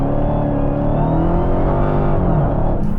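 A loud muscle car, either a Ford Mustang Shelby GT500 or a Dodge Challenger Hellcat, rumbles along behind on a paved block road, a deep steady engine drone holding for a few seconds without talk.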